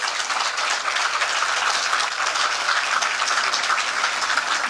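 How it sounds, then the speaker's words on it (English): Applause from an audience at a public meeting and petition signing, a steady dense wash of clapping that holds evenly throughout without voices. "give that man who was just speaking to us here another round of applause"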